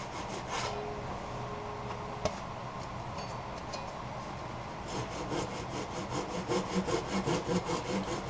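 A hand saw cuts through wet, fibrous willow wood mounted on a lathe, a continuous rasping run of strokes that quickens into a clear back-and-forth rhythm near the end, close and loud with no talk.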